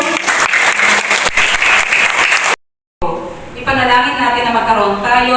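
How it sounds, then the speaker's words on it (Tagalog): A church congregation claps in applause during a sermon, a loud burst of clapping that cuts out briefly before noisier sound with voices resumes. "Wala ba palakpak kay Lord?"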